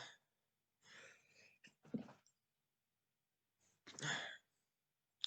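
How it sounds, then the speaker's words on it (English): A man in a quiet room lets out a couple of short, sharp sneezes, close and fairly faint, with brief breathy bursts between them. "Did not want to sneeze then, but I couldn't hold it in."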